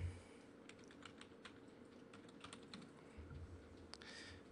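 Rapid clicking of computer keyboard keys while a folder name is typed, an irregular run of close, crisp keystrokes over a faint steady hum, with no talking.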